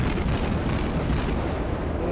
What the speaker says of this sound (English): I'm aiming straight for his bow. Going to continue to put fire down on him.